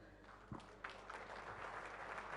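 Dignitaries and guests at a formal meeting with authorities at the presidential palace in Madagascar rise and applaud, giving faint, distant, steady clapping with a couple of sharper thumps and a low rumble underneath.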